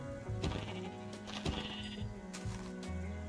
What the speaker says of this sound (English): Aren't they sheep?